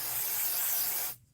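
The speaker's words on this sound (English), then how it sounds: "So you're just going to spray on, and it's a temporary spray glue." Temporary spray glue hisses steadily from an aerosol can onto ironed patchwork fabric, one continuous close, loud burst that cuts off abruptly near the end.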